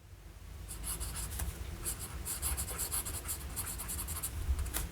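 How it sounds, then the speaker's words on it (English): A Kaweco Perkeo fountain pen with a medium nib scratches steadily across paper, making a close, soft, continuous writing sound in short strokes, with no talking. "Kaweco Perkeo with a medium nib, and the ink in this"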